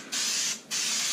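Two close hissing bursts of spray adhesive applied to truck A-pillars, the first longer and the second following after a brief pause, loud and alone.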